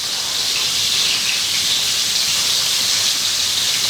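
Cornstarch-coated steak pieces frying in hot oil give a loud, steady, close sizzle, a continuous bright hiss that carries on without a break.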